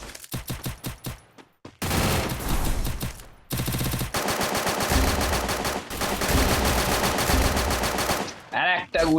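Gunfire in the video game Free Fire: bursts of rapid automatic shots and single cracks, loud and close, with short pauses between volleys.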